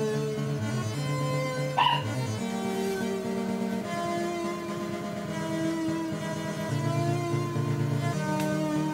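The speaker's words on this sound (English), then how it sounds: "And there's the dog." A dog barks and yips close by, with a few whimpering cries mixed in over a steady tonal background that runs for the whole stretch.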